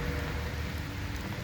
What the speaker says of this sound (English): It's only a light rain now.